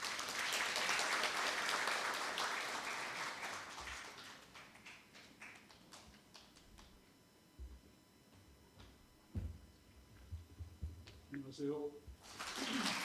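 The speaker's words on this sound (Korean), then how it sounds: "박수로 모시겠습니다." Audience applause at a university president's farewell ceremony, loud sustained clapping that fades over several seconds into scattered claps, followed by quiet room sounds, a few taps and a brief voice near the end.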